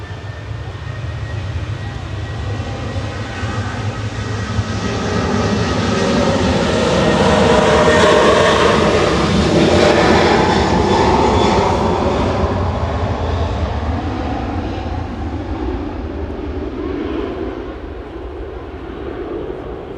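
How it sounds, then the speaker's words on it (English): Ryanair jet taking off from Manchester Airport, bound for Berlin Brandenburg: a loud, sustained engine roar that swells to a peak mid-way and then slowly fades as the aircraft climbs away. "Heading out first is Ryanair to Berlin, Brandenburg"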